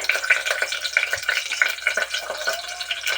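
Chopped onions frying in a spoonful of oil for brinjal curry, a steady close crackle with scattered pops and light stirring scrapes, no voices.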